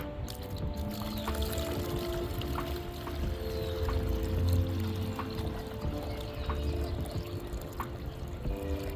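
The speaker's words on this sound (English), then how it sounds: "I'm gonna pour it into this container in case I lose any of my mica" Sandy river water pours steadily into a container for several seconds, a continuous gurgling trickle with a low rumble underneath and no voices.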